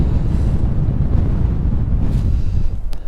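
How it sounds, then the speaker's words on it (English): Strong wind whips over a tarp shelter at a tarp and bivi camp in the Southern Uplands, a steady loud rumbling buffet that fills the whole stretch with no voices. "that wind's picking up now, but underneath there, nicely sheltered. The wind's just whipping over the top."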